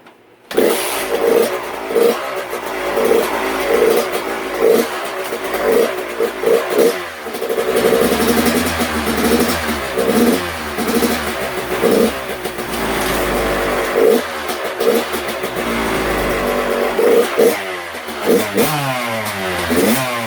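A Kawasaki KX dirt bike with a freshly replaced clutch starts up and revs in gear with the rear brake held, its two-stroke engine loud and close, rising and falling through repeated throttle blips with no talk.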